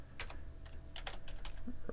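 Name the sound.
typing on a computer keyboard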